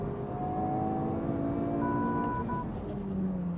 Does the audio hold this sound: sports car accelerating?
yes